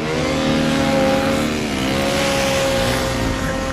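A motorbike engine labours up a steep hill, a loud, steady drone with shifting pitch close to the rider and no pauses.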